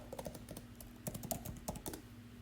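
Quick bursts of typing on a computer keyboard while working in Canva, crisp close key clicks in irregular clusters with short pauses, heard alone without talk.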